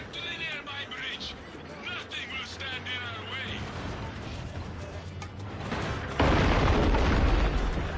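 A tank-mounted flamethrower in Far Cry 6 bursts into a loud, roaring whoosh that swells and holds for the final seconds, following a stretch of game voices talking over rumbling vehicle noise.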